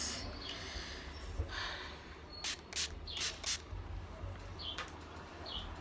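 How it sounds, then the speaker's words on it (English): Several short, soft hissing bursts of setting spray land on a beauty blender makeup sponge, close and quiet against a faint background murmur. "I'm just going to spray some setting spray onto this."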